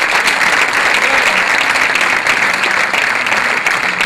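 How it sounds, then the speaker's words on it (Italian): Dense, sustained applause from a theatre audience after an Italian stage comedy, steady and loud throughout with no pauses or voices on top. "Se vi siete divertiti, un altro applauso."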